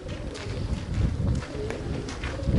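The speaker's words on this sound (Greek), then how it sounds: "Για να μας διώξουν εδώ τα πουλάκια." Pigeons coo in soft, low, repeated phrases amid a continuous wash of wind and outdoor rumble, with no talking.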